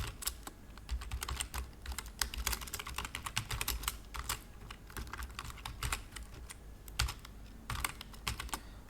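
Someone types on a computer keyboard in a steady patter of quick, light key clicks, with soft background hum throughout.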